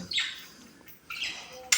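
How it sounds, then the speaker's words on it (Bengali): Small caged birds, like budgerigars, chirping nearby in a few short, bright bursts with brief pauses between. "পাখিগুলো সব এখানে আছে, বসে আছে ভিতরে"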